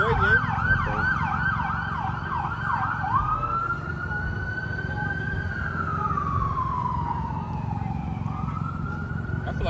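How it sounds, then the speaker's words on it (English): An ambulance siren wails in fast rising sweeps, then shifts to slower, longer up-and-down tones, sounding moderately distant over a low traffic rumble in Atlanta. "Oh, that's an ambulance again."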